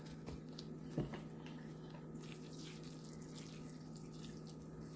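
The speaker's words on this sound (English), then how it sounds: "Just putting some water around." Water poured from a small container around a freshly up-potted pie pumpkin seedling, soaking the soil with a quiet, steady trickle and a faint patter, soft and close throughout.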